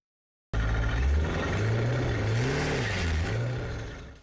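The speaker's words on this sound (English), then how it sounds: "Here's a shot of when I did a slight launch in the driveway." A C5 Corvette makes a slight launch in a driveway, its engine revving up with a loud, wavering low drone that rises and dips for about four seconds before easing off, with no voices.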